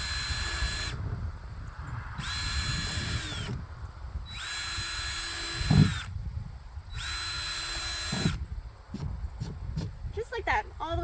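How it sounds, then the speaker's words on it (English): A power drill bores drainage holes in the bottom of a worm farm bin, giving four loud whining bursts with brief pauses between them, then rattling near the end, while a person speaks. "take your drill here and make nice even holes"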